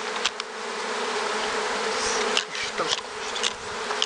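Steady buzzing from honey bees being moved into fresh hives fills the whole stretch, with a few brief clicks and soft knocks on top, and a voice murmurs briefly near the end.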